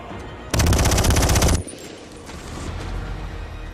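Loud burst of automatic gunfire in a war film, about a second of rapid continuous shots close and dominant, then dropping to a lower rumbling background.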